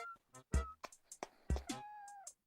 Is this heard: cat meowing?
yes